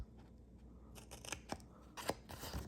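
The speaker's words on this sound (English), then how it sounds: "I'm just taking a little bit, cutting at an angle from kind of the inside towards the outer corner" Scissors snip cardboard flaps on a paper candy bar box, several crisp close cuts in a quick irregular series, quiet overall with no talking.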